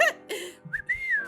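A person whistles a quick imitated catcall, a short rising note followed by a longer sliding tone, close and clear among brief bits of voice.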